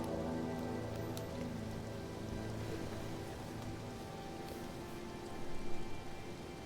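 Steady rain patters on surfaces in a fantasy video game near Redmane Castle, a dense continuous hiss that holds even throughout with a slight swell near the end and no talking.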